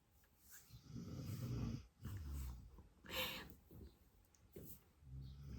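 A pet dog named Spock snoring close by, a run of rough, snorting breaths rising and falling in slow uneven cycles, with faint wheezy edges.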